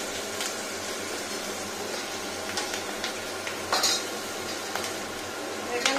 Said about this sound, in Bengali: একটু ভালো করে ফ্রাই হবে আদাটা